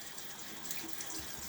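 A tap runs steadily into a sink while rinsing a razor after a shave with a UK Aristocrat blade, a faint continuous hiss of water throughout.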